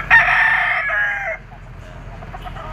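A young gray Sweater-bloodline stag rooster crows loudly and close by at a Philippine market, one full cock-a-doodle-doo ending in a quieter trailing note.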